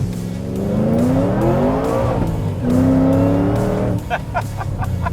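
Ford Mustang GT500 with roughly 870 horsepower revving hard toward the rev limiter, filmed from inside the car; loud rising engine pitch sweeps in several long pulls, ending in quick rhythmic bursts near the limiter.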